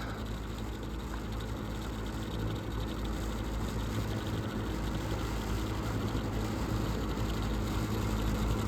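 A vintage box fan running on medium speed, around 800 RPM, gives a steady, even whir with a low hum underneath, faint and constant without any change.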